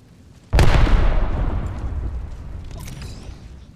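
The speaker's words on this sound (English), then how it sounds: "Look out, grenade." A grenade detonates in Apex Legends with a sudden loud boom that rolls off into a long, fading rumble over about three seconds, close and heavy, no voices.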